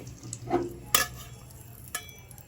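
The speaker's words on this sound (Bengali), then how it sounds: "কারণ হচ্ছে আমি পনিরটা ভাজবো" Paneer cubes tossed in a kadai with turmeric and salt, a soft sizzle under a few sharp spatula scrapes and clinks against the pan, close and fairly loud.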